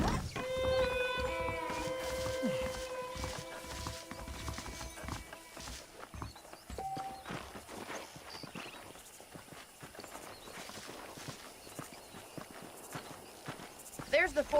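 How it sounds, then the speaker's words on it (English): Horse hooves clip-clop in a steady walking rhythm in the video game Red Dead Redemption, with game music at first and voices talking over the hoofbeats. "The horses are saddled up over here."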